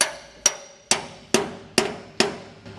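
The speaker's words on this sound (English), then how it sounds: "I'm gonna go ahead and persuade it in with the hammer" A hammer taps a bolt into a trailer leaf spring hanger with six sharp metallic strikes at a steady rhythm, each ringing briefly and fading before the next, close and loud with no speech.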